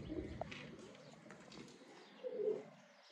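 Male pigeon, a cross bred from thorny-footed and golden pigeons, gives a couple of soft, low coos close by, with quieter rustling between them.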